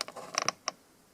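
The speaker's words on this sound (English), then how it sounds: "you'll need a flat-tipped screwdriver to remove this piece right here" A flat-tipped screwdriver pries a trim piece off the door of a 2006 Chevy Silverado, giving a short run of close, sharp plastic creaks and clicks followed by one final snap as the piece pops loose.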